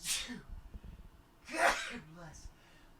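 Two sharp sneezes close up, one at the start and another a moment later, with soft breathing and a faint voice between them.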